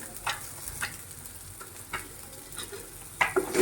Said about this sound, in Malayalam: അത് നമ്മുടെ മീൻ ഇവിടെ കിടന്ന് ഫ്രൈ ആയതുകൊണ്ട് നമുക്കിതിലേക്ക് കറിവേപ്പില ഇട്ട് കൊടുക്കാം.